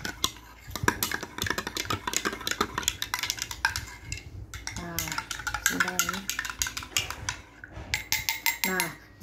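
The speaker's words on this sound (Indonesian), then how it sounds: "Kita aduk hingga larutan tersebut tidak ada lagi bulir-bulirnya." A spoon stirs solid grains into 300 ml of water to make a solution, scraping and clinking repeatedly against the container up close, with a voice talking over parts of it.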